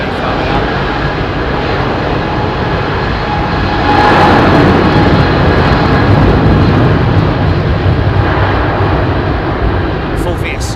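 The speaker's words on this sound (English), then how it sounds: "Got another 330 coming up." Airbus A330 departing from runway 27R at London Heathrow, a loud sustained jet engine roar that swells around the middle and stays strong throughout, with people talking over it.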